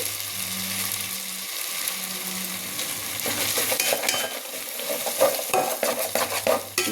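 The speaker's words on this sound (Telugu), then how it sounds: "మొత్తం అల్లం వెల్లుల్లి పేస్ట్ మొత్తం పచ్చివాసన పోయిన తర్వాత వేయించాలి" Ginger garlic paste frying and being stirred in a pan while cooking a potato and carrot veg biryani, with a steady close sizzle and repeated scraping of a spoon against the pot.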